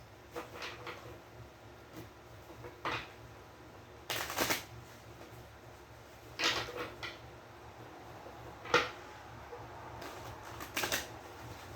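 Quiet room with repeated bursts of tarot cards being shuffled, several riffles spaced a few seconds apart, close and crisp against near silence.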